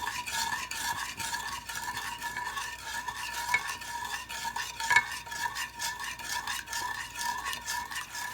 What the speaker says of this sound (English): the sugar water is boiling